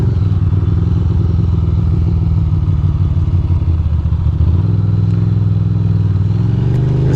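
A motorcycle engine drones loudly and steadily up close while riding in New York City traffic, with a shift in pitch partway through.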